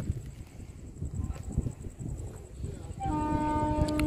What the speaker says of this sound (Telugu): ప్రజెంట్ అయితే నా ట్రైన్ వచ్చేస్తుంది.